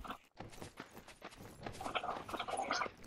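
Horse hooves clip-clop in a medieval survival game, a run of close, uneven footfalls, with a faint voice now and then.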